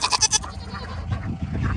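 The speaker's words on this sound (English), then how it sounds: "Should we say hi to the goats this morning?" Goats on a farm let out several quick, close bleats in a rapid series, then a lower, rougher call follows.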